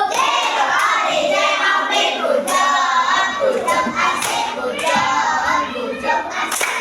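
Primary school class of children in an Indonesian science lesson doing a rhythmic group clap, sharp sets of claps in a patterned beat mixed with the children's chanting voices, loud and close throughout.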